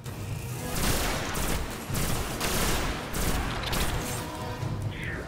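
Rapid, dense gunfire from the video game Destiny fills the stretch in loud bursts, with short gaps between volleys and a few crashing impacts.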